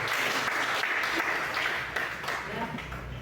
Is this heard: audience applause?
yes